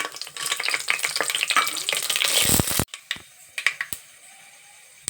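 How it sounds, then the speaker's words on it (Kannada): Whole spices such as cinnamon, pepper, cardamom and cloves hit hot oil for egg biryani, giving a loud steady sizzle that cuts off abruptly, followed by a few scattered clinks and taps. "ಈಗ ಇದಿಷ್ಟು ಎಣ್ಣೆಗೆ ಹುರ್ಕೊಂತೀನಿ ಹಾಕಿ"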